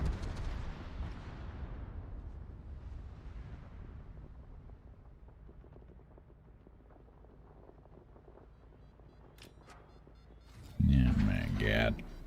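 Warship naval gunfire in World of Warships: a booming salvo fades into a long rumbling tail, followed near the end by a loud, sudden burst of heavy gunfire, with a voice talking over it.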